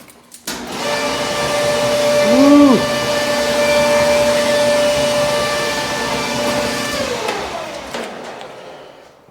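A washer or dryer in an apartment, plugged in and running with a steady droning motor hum that holds for several seconds and fades out, with a brief shout near the start.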